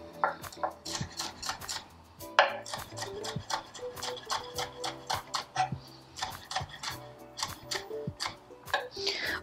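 A knife cuts red pepper into a salad bowl while an eggplant salad is prepared, giving a quick run of sharp, close, irregular taps and clicks throughout.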